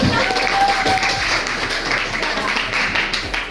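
Clapping from students in a classroom during a debate lesson, a steady patter of hands lasting several seconds with murmured voices underneath.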